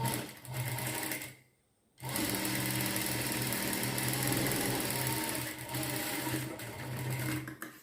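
A sewing machine stitches fabric in a loud, continuous whirring run up close, stopping briefly near the start before resuming steadily to the end.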